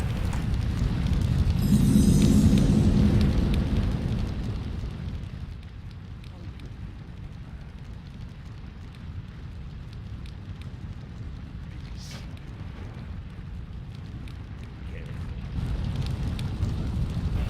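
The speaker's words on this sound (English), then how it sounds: "Also, there's more really loud fire here." Loud fire crackling in World of Warcraft: Warlords of Draenor in the snowy Frostfire Ridge zone, a dense roaring hiss that swells early, settles into a steady rush and lifts again near the end, with a voice over it.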